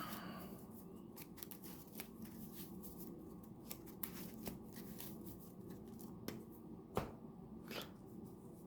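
A Yu-Gi-Oh trading card deck is shuffled by hand, giving a run of soft riffling and flicking card sounds with a few sharper snaps, close and steady, with no talking.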